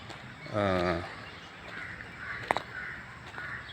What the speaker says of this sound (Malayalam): ബാക്ക്ഗ്രൗണ്ടിൽ കിളികളുടെ ശബ്ദങ്ങൾ ശ്രദ്ധിക്കുക